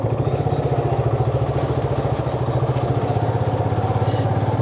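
A motorcycle is ridden along a rough, badly broken city road, its engine thumping in a fast, even pulse close by with a steady rumbling undertone.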